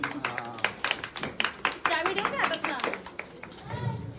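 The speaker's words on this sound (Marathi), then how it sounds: "जोरदार एकदम जोरदार टाळ्या होत्या मामासाठी" Applause at a child's first birthday party: scattered, uneven hand claps from a small group, fairly close, mixed with talking and a voice.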